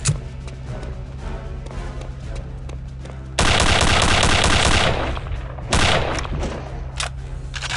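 Rapid automatic weapon fire from Return to Castle Wolfenstein, loud and sustained in dense bursts over a constant low game hum, with brief pauses between volleys.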